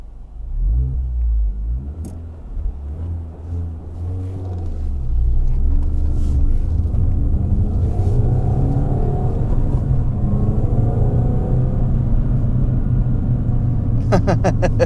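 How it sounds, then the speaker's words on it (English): A supercharged R53 Mini Cooper engine rumbles and revs up, settling into a steady throaty drone with crackling exhaust pops near the end. "Who really needs a radio when you have a supercharger in the front and pops and burbles at the rear?"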